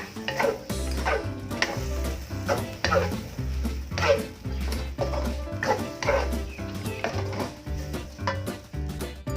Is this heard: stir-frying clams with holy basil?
yes